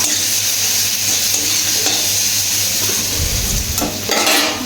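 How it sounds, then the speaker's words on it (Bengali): Bitter gourd frying in a pan, a steady close sizzle running throughout with a few faint utensil scrapes toward the end. "এই যে উচ্ছেটা ভাজা হচ্ছে"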